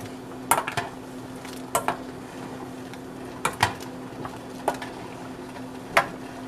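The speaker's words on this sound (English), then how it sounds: "I'm going to stir this." Soup for Ghanaian light soup being stirred in a pot, a spoon knocking against the metal sides in sharp, irregular clinks about once a second over a steady low hum.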